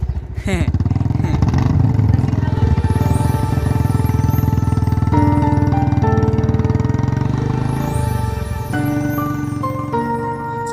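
A motorcycle engine idles and runs loud and close for the whole stretch, its droning pitch shifting as the bike pulls away, with brief talk over it at the start.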